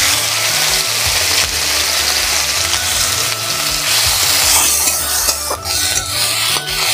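Onion paste frying in a wok with dried red chilies and nigella seeds, a loud close sizzle with a steady low hum and occasional clattering stirs over seven seconds, no speech.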